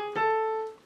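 A piano plays a brief bebop blues enclosure, a quick cluster of notes circling around A before settling and sustaining on A, heard alone and close for about a second.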